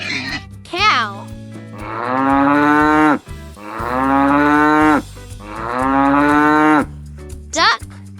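A cow moos three long, loud, drawn-out times with short gaps between, close by, with brief higher squeaky sounds at the start and end.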